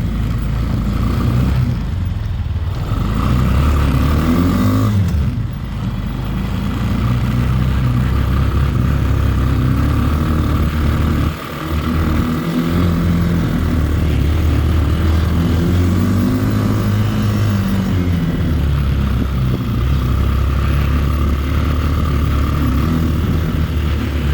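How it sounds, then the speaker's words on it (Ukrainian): A Bashan 250 cargo quad bike with a manual gearbox revs in first gear at low speed, its engine droning loud and steady with pitch rising and falling as the throttle opens, close and continuous throughout. "Ну Це ось я газую вже 4 км за годину."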